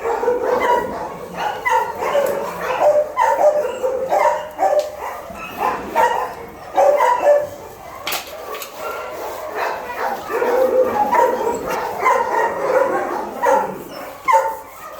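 The largest dog at the Bečej animal shelter in Serbia barks in repeated, irregular bursts, with other dogs yipping and whimpering around it at close range.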